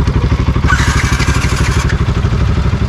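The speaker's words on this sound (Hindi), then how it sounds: "है, ये हमारी स्कूटी और एग्जॉस्ट नोट सुने RS 200 का।" A modified RS 200 motorcycle idles close by, its exhaust thumping out a loud, fast, even chain of pulses with a brief sharper rattle partway through.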